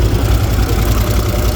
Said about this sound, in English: She's just been idling for a couple of minutes now, nothing crazy.